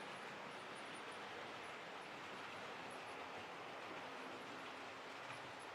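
A model train is pushed around its track by two Irish locomotives, giving a faint, steady, continuous rolling whir with no pauses.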